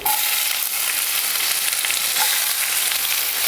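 Fenugreek seeds, curry leaves and onion frying in hot oil for tempering, making a loud, continuous hiss of sizzling with no voices.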